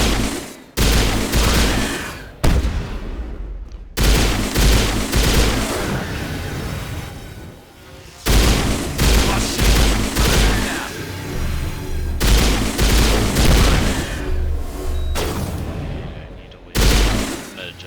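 Heavy shotgun blasts in the Mass Effect game, several loud booming shots at irregular intervals with short gaps between them and a decaying rumble after each, voice chatter in between.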